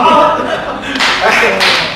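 An audience at a crosstalk theatre performance breaks into brief applause, a burst of claps lasting about a second over room ambience.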